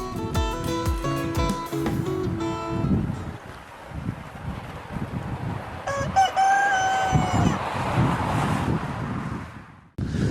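Chickens on a poultry farm in the Gers cluck and crow repeatedly, with several roosters calling loudly amid a busy flock chorus.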